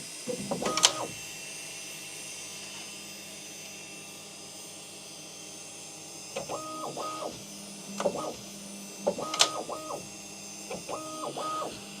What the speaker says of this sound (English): Let's see if I can unload this thing without the nozzle in.